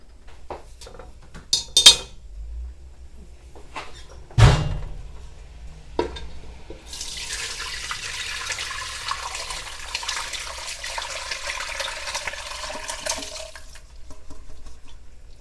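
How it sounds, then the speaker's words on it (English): Homemade turkey soup strained from a pot: a few sharp clanks of pot and utensils, then a long, steady rush of broth pouring through a strainer, fairly loud and close. "So I think what I'm going to do now is strain it."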